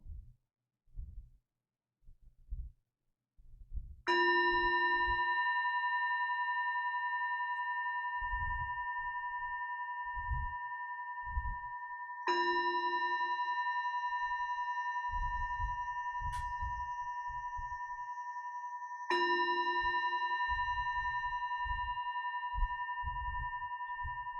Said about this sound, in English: Seeing how long you can hear the sound of the bowl.